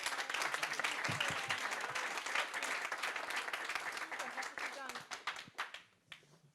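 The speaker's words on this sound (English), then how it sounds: "So let's give a warm applause." Audience applause for panelists at an Executive MBA information evening, loud sustained clapping from a crowd filling the room, thinning out toward the end with some voices underneath.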